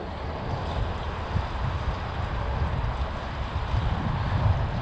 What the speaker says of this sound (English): It's too windy to risk it out here today.